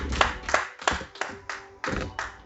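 Rhythmic hand clapping from a church congregation during a Sunday service, about seven to eight fairly even claps, moderately close and alone with no talking.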